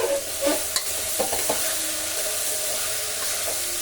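Ridge gourd curry with ginger and garlic is stirred and fried in a pan, giving a continuous soft sizzle with several spatula scrapes and taps in the first couple of seconds.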